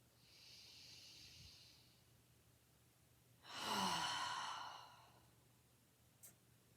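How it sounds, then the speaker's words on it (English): Slow deep breathing during a yoga session: a faint airy inhale, then a louder, longer hissing exhale like a sigh, close and quiet, followed by a small brief puff near the end. "Take a deep breath in."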